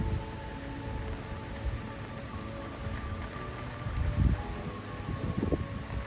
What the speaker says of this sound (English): today it is raining